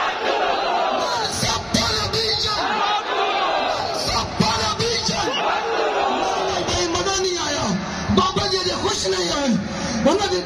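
A large crowd at an Urs devotional gathering shouts a religious slogan in unison, loud massed voices rising and falling in repeated waves around a strong lead voice, filling the whole stretch.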